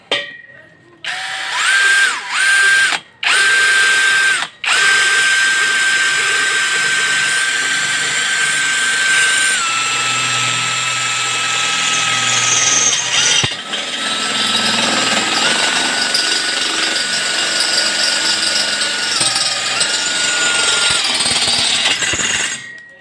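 A Lotus CX 20V brushless impact drill bores through wood and concrete, a loud, sustained high-pitched whine and grinding roar that starts with a few short bursts, then runs continuously with shifting pitch before cutting off.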